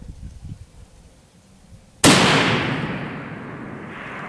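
A single sharp, loud rifle shot from a .338 Lapua Magnum fired at a 1,000-yard target, the muzzle blast cracking suddenly after quiet and trailing off in a long rolling echo.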